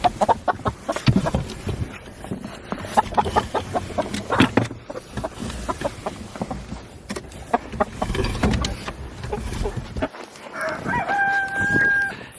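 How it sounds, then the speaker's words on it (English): Backyard coop rooster crowing with a long, drawn-out call near the end, over steady clucking and fowl chatter nearby. "You hear our rooster probably in the background"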